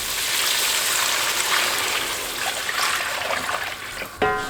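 Water poured into a pot of rice for beef yakhni pulao, a steady close rushing pour that runs almost the whole time, then ends with a short clatter.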